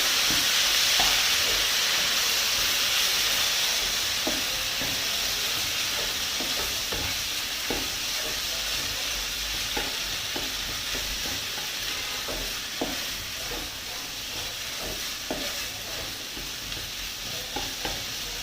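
Potato thoran is stirred and fried in a pan at home, a steady loud sizzle running throughout with frequent scraping taps of the spoon against the pan, no talking over it.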